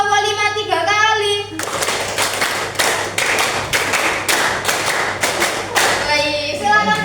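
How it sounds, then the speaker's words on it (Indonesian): A classroom of pupils claps hands together in a quick counted rhythm, a run of sharp, loud claps between stretches of a teacher talking. "tepuk 5 3 kali."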